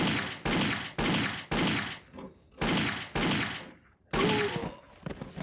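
Rapid automatic gunfire bursts ring out in the Indiana Jones and the Infernal Machine video game, several loud sustained volleys separated by short pauses, with a faint metallic ping near the end.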